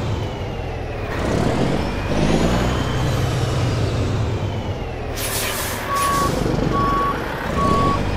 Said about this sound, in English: I do like the sound of that cat engine.